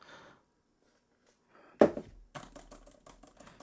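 A soft thump followed by a quick burst of clicking keystrokes on a renewed M4 iPad Pro keyboard, close and fairly quiet, after a brief faint voice at the start.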